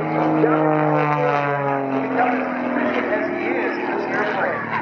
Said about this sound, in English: Watch now as he tips the airplane to one side and then around and around and over as he tumbles the airplane.